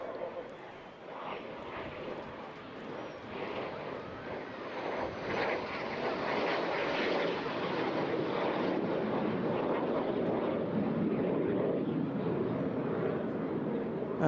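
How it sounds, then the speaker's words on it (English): Jet Provost Mark 5A jet aircraft flying at an airshow, a broad roaring rush that swells steadily louder over several seconds and holds, heard from a distance outdoors. "So David John Gibbs in the Mark 5A Jet Provost."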